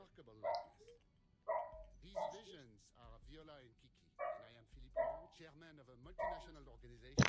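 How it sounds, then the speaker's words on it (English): Dogs barking in the video game Saints Row The Third, a series of sharp yaps and barks in regular bursts, fairly close, under and between a man's speech. "Any bunch of little twits outside, aggravating the dogs."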